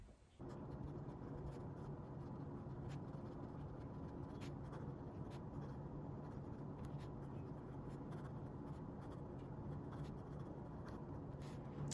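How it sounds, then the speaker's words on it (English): A Noodler's Boston Safety fountain pen writing on paper with Platinum Classic Cassis Black ink, a continuous close scratchy nib-on-paper rustle that runs unbroken for several seconds, with no talking. "let's get writing"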